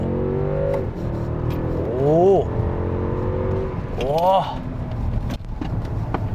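A Mercedes-Benz S-Class S580 large sedan accelerates with its engine note climbing in two distinct surges, moderately loud from inside the cabin over a steady road rumble.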